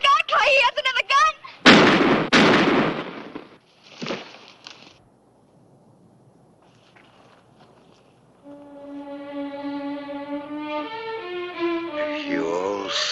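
Sharp gunshots ring out in a western movie gunfight, several loud cracks and bangs close together near the start, then quiet before music swells, with dialogue among the shots.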